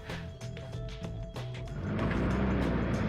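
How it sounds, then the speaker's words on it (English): A truck rumbles past outdoors, its low engine noise swelling steadily louder toward the end over a faint background of music. "Truck noise incoming."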